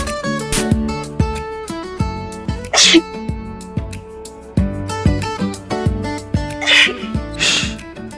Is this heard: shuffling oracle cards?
no